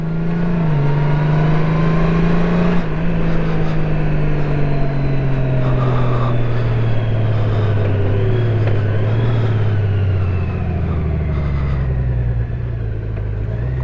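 A Honda Goldwing DCT motorcycle in sport mode accelerating up a slight incline, its engine note climbing and dropping through several quick gear shifts, loud and continuous with no talk.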